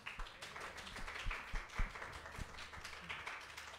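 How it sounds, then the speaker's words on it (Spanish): A small audience at a talk welcoming members from Argentina claps, with sparse, uneven individual hand claps rather than a full ovation, fairly quiet and close. "Un aplauso, por favor."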